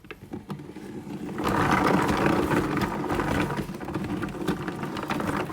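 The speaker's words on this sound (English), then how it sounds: "So this is supposed to be a salad spinner." A salad spinner whirls rinsed cranberries. A few light clicks come first, then a steady mechanical whirring starts and keeps going, close and moderately loud.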